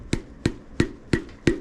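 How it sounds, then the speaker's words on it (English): Five evenly spaced sharp knocks of a hammer gently tapping a piston into the engine block of a Dodge Dakota 5.2 Magnum, close and distinct, with quiet gaps between each blow. "They sell special hammers for installing pistons, but really you can just use any hammer"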